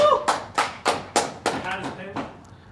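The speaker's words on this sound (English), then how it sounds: "Let's clap it for capture." Seven sharp bursts of clapping at a live business Q&A, loud and close, spaced about a third of a second apart and fading toward the end, with talk mixed in.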